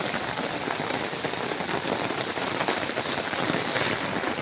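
Heavy rain pours down in Hyderabad, a dense, steady roar of drops striking surfaces that stays loud and unbroken throughout, with no voices.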